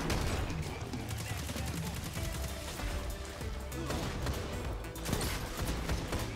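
Rapid weapon fire in the Destiny 2 Crucible, a dense continuous stream of shots and impacts under game effects, fairly faint and steady throughout.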